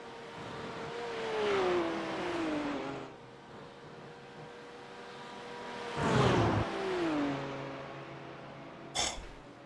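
A BMW race car in the iRacing simulator, its engine whining up through the revs, cutting off at a gear change, then climbing again, with a short sharp burst near the end.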